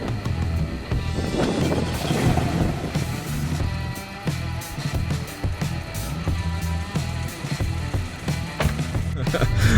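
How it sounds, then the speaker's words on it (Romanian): A 2017 Porsche 718 Cayman S with PDK dual-clutch automatic starts up and runs, a low engine rumble rising and settling, with wind noise and some talk over it. "Haideți să o pornim, nu? Sper că veți auzi motorul."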